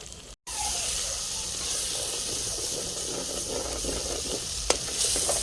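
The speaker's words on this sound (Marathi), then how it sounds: "आता हा मसाला छान तेलामध्ये खरपूस भाजून घ्यायचा" Spice masala fries in hot oil for a traditional village-style chicken, a loud, steady close sizzle that runs without a break after a brief opening gap. No one speaks.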